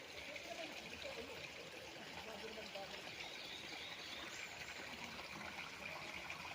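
A clear creek on a farm lot in Liliw, Laguna flows with a faint, steady watery hiss and trickle throughout, quiet and continuous.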